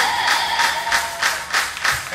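A festival crowd at a live gipsy-ska show claps along in a steady rhythm, sharp massed claps landing about every third of a second, loud and close, with a little crowd noise mixed in.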